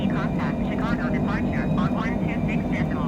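A Cessna climbs out after takeoff from Chicago Midway at dusk in snow showers, its steady engine and airframe drone continuous beneath close, excited talk in the cockpit.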